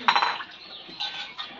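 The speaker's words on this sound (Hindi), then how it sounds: "अभी भाभी बर्तन धो रही हैं" Dishes and metal utensils being scrubbed clean with ash mixed with surf detergent: a burst of clinking and scraping at the start, then quieter rubbing with a couple more clinks, close by.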